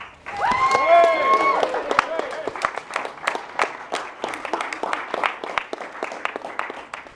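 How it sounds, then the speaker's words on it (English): Wedding guests applaud the bridesmaids during the speeches. Clapping swells under cheering, whoops and raised voices, then thins into scattered, distinct claps that trail off. "Let's give them a round of applause"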